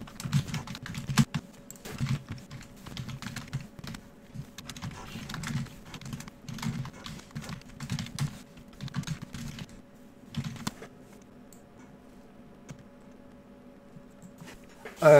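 Fingers typing on a computer keyboard while filling in personal details, irregular bursts of clicking keystrokes with short pauses in between, close and fairly quiet.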